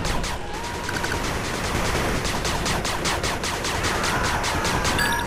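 A machine gun turret in 8-Bit Armies fires a rapid, unbroken stream of shots, loud and steady under a dense layer of battle noise.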